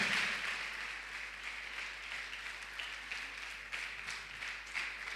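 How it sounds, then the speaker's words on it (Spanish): Faint, distant applause from a church congregation during a sermon, a soft, even wash of clapping with a low steady hum beneath it and no voices over it. "Dale un aplauso al Señor en el nombre de Jesús"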